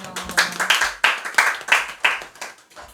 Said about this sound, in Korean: 박수 주세요.